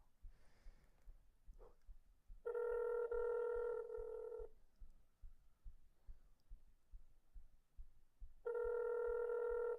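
An outgoing mobile phone call plays its ringback tone. Two long, steady electronic tone bursts are separated by a quiet gap, over a soft rhythmic thumping in the background.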